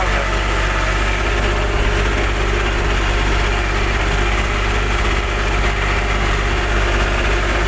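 A motor vehicle engine on a soft, damp riverbank, climbing uphill from the water's edge, holds a steady, loud, continuous running drone with rough low rumble and no clear rise in pitch, heard alone without voices.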